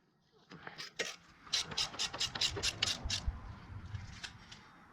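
Brake caliper bolt being tightened on the rear brakes of a 2000-2006 GMC Yukon Denali during a pad replacement, heard as a close, quick run of metallic ratchet clicks, faint and with no voices.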